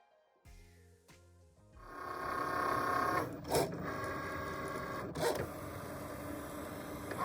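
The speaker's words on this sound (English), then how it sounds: "Now my Cricut is going to write the first message." A Cricut cutting machine writes a card message with its pen, giving a mechanical whir and buzz of motor movements with stepping tones and a couple of sharp clicks, close and steady.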